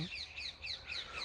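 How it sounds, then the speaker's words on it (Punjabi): Birds repeat shrill, high chirping calls in quick rhythmic bursts, several in a row, fairly faint and distant over a quiet low background. "ਦੇਖੋ ਤੋਤੇ ਤੂਤੇ ਬੋਲਦੇ ਪਏ ਆਗੇ"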